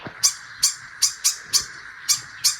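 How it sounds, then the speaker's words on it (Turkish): A bird calls in a regular series of about eight sharp, high chirps, evenly spaced, fairly close against a quiet background. "Kuş onu gördükçe ötüyor o da orada."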